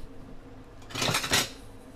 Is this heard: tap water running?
no